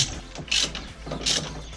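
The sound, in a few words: torque wrench clicking while tightening car bolts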